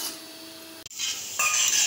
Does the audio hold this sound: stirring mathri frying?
yes